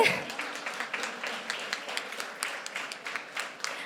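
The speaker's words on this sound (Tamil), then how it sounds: "கைத்தட்டல் பத்தாது." A felicitation ceremony audience gives steady, moderately faint applause for honorees such as a makeup artist, a dense patter of claps with no speech over it.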